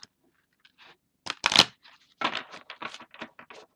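Stiff cards are shuffled by hand in short, crisp bursts of papery rustling and snapping, close and fairly quiet, with no talking.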